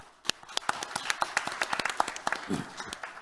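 An audience at a Korean carbon-neutrality and ESG policy conference gives a short burst of scattered applause, moderately loud and with no speech.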